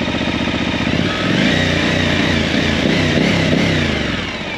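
Suzuki V-Strom 1050 fitted with a Mivv Speed Edge exhaust, baffle installed, revving loud and close: a steady idle rises into a sustained throaty rev with harmonic engine drone, then settles back.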